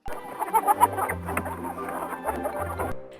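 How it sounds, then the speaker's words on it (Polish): Hens on a farm cluck repeatedly in quick, irregular bursts, close and fairly loud, with a few overlapping calls and low background sounds underneath. "Spójrz, Misifu, kury znoszą jajka, z których wylęgną się pisklęta."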